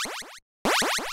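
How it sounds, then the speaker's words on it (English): NES square wave channel sound effect played alone: quick rising pitch sweeps in a rapid repeating pattern, a short silent gap, then more sweeps, bright, buzzy and close. "if I now bring in the square wave, which sounds like this on its own."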